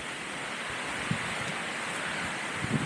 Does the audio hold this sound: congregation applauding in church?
no